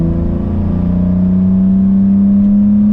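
A BMW E30 with a swapped M50 engine accelerates in 4th gear, a loud steady drone from inside the car with the engine note rising gradually and continuously throughout, no voices.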